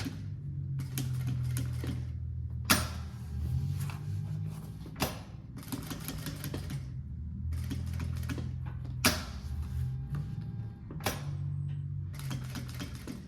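Sewing machine stitching a printed synthetic panel on a tote bag: bursts of rapid, steady mechanical stitching with a low hum, broken by sharp clicks and short pauses between runs, close and fairly quiet.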